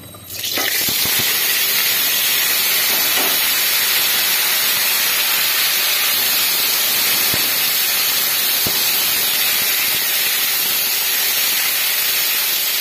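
Vegetables hit hot oil in a pan for a fish curry, setting off a sudden, loud, close sizzle that settles into an even, continuous hiss of frying with faint stirring clicks.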